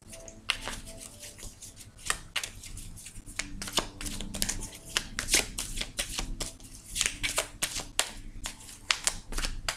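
Tarot cards being shuffled by hand, a steady run of quick papery riffles and snaps lasting the whole stretch, close and fairly loud with no talk over it.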